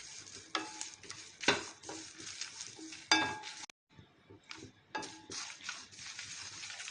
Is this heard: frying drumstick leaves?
yes